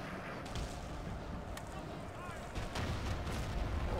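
Cannon artillery in a Napoleon Total War battle rumbles in a dense, continuous barrage with sharper reports cutting through, loud and unbroken across the whole stretch.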